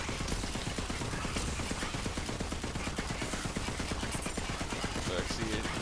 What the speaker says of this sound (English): it's not the strongest gun, but you just keep shooting. Like, you never stop shooting